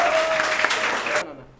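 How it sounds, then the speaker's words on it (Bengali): An audience gives loud applause for Adnan, a coaching teacher, at an HSC 23 admission celebration, with a voice heard over it. The dense clapping runs steadily, then stops abruptly near the end. "আদনান ভাইয়ের জন্য একটা জোরে করতালি"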